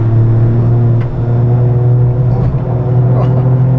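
A Toyota Yaris GR driving on a track, with a steady loud engine drone and road rumble that holds throughout, without a break.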